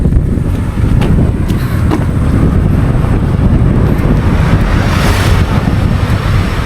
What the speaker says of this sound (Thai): โอ้ยลมมาเย็นเย็น